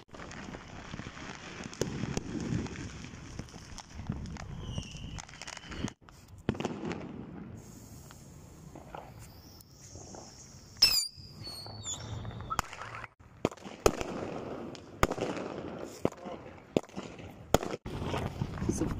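New Year firecrackers pop and crack at scattered intervals over nearly twenty seconds, some sharp and close, others faint, with people talking between the bursts.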